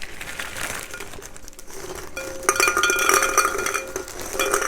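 Plastic crinkling and rattling as hollow egg ornaments shift and clack together inside a bag, with several brief knocks and no talking.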